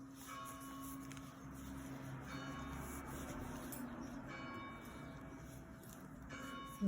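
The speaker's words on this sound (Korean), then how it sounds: "여기가 정시마다 성당에서 종이 울려가지고 지금 종 치는 소리예요." A cathedral church bell rings on the hour, heard at a distance as a steady, sustained tolling resonance that hangs in the background for several seconds without any voices.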